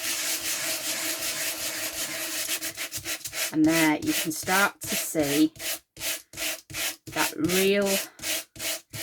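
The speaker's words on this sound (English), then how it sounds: "I have a sanding block." A sanding block scrubbing back and forth over a high embossed foil surface, a regular rasping stroke rhythm that is close and prominent while someone talks over it.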